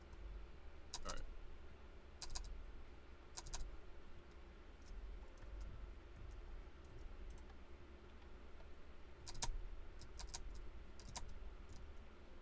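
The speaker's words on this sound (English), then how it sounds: "Stupid keyboard." Clicks from a computer keyboard arrive in sparse, brief bursts of keystrokes separated by long pauses, faint against a low steady hum.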